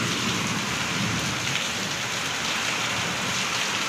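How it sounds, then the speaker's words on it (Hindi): Heavy rain driven by wind beats down continuously, a dense and loud roar that holds steady throughout with no voices. "अभी तुरंत जस्ट बहुत ज़ोरों से बारिश हवा शुरू हो गई है और साथ में हवा भी चल रही है।"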